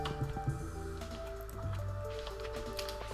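Corn dropped into an oil maker in the farming game Stardew Valley gives a few wet squishy plops and drips over a busy layer of game background music, with no talking.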